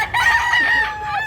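Rooster crowing at a busy gamecock market in Cebu, a single long, strained cock-a-doodle-doo ringing out close and loud with faint market background beneath.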